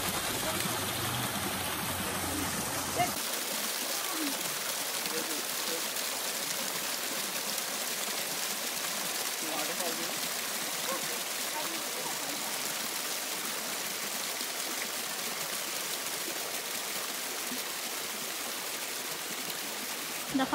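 Water spilling at Buttermilk Falls in New Jersey during a low-flow period, heard as a steady, even hiss of falling and splashing water that continues unbroken throughout.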